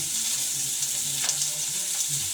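Sukuti dried meat frying and being stirred in a pan, a continuous bright sizzle with soft scraping stir strokes underneath, close and steady, no talk.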